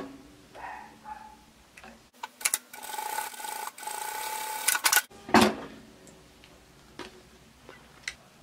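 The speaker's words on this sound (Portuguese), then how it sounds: "Eu vou passar uma costurinha só aqui na bordinha para poder fechar aqui" A sewing machine stitching along the edge of a fabric face mask, a steady close whirring run of about three seconds, with clicks and handling rustles before and after.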